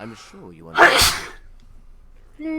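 A single sharp sneeze from a character in Fallout 3, loud and close, set between short bits of talk.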